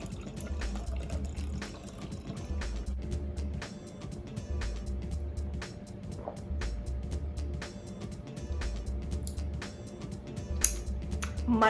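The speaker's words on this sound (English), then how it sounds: "Gonna need some more water in there." Water pouring from a tap into homemade punch, a continuous splashing gurgle with uneven surges, heard up close with no talking over it.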